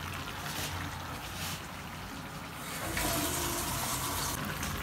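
Water is poured into a cataplana fish stew with mussels, a steady rushing gush that grows louder and fuller midway through, with no voices.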